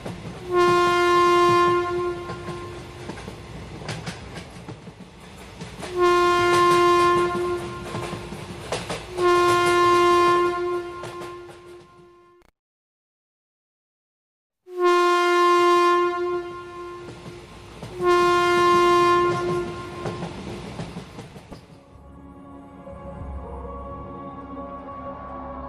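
A train runs along at evening with repeated long, loud horn blasts over a rolling rumble. The horn cuts out for a moment of silence, then sounds again in several more blasts before the track noise carries on alone.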